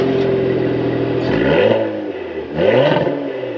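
A Cadillac performance sedan without a V8, a 360-horsepower all-wheel-drive car, revs its engine loudly and close by. Two sharp rising blips climb and fall over a steady idle.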